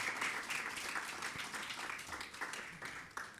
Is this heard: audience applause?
yes